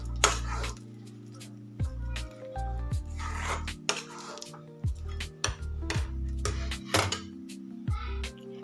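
A spoon stirs and scrapes hot jaggery and peanut chikki mixture in a metal pan, with irregular sharp clanks and knocks about once a second over a low steady hum.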